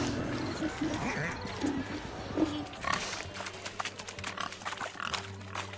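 Pigs squeal and grunt in The Witcher 3 during a pig-chasing race, short snorts and squeals mixed with hoof-like clattering and busy game noise, moderately loud and close.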